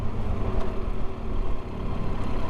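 Two motorcycles rumble at low speed close by, a steady throaty idle with small rises in revs as they pull in off a road near Mt. Rainier.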